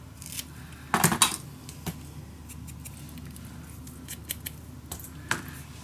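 Scissors snip through patterned paper for a shabby chic scrapbook mini album, giving a short cluster of crisp cuts followed by a few lighter, scattered snips and faint handling rustle.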